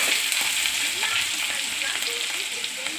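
Cumin seeds crackling in hot oil for a tempering, a dense steady sizzle with fine scattered pops, close and continuous.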